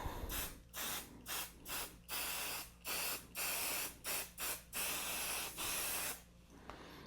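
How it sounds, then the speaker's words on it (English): A rapid series of short hissing spray bursts onto fabric, about a dozen in quick succession, close and fairly loud, with brief pauses between them and no talking. "go ahead and spray your fabric"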